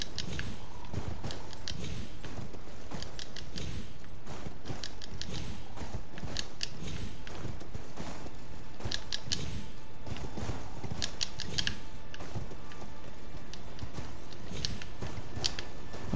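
Horse hooves clip-clopping at a walk in the video game Elden Ring, a steady repeated beat of footfalls heard alone under dense game ambience and music for the whole stretch.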